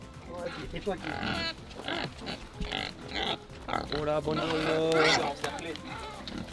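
Iberian Bellota Pata Negra pigs grunting and snorting in a wide pasture, several close, loud grunts and squeals mixed with talk from people standing among them.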